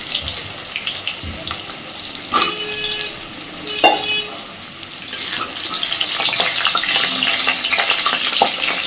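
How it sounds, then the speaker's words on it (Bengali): Potatoes fry in hot oil in a wok, a broad hiss that grows louder and steadier in the second half, with a few scattered knocks and clatters of utensils early on. "এবার আমি আলুগুলোকে আগে ভেজে নেব"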